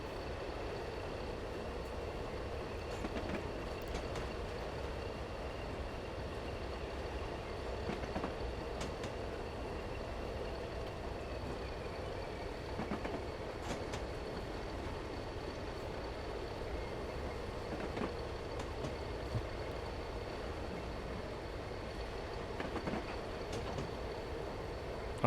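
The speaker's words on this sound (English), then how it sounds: "because it's just a slow freight train" A slow freight train in a train simulator rolls steadily at low volume, a continuous low rumble broken by faint periodic clacks of the rails.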